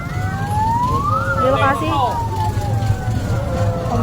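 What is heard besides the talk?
fire truck siren arriving at car fire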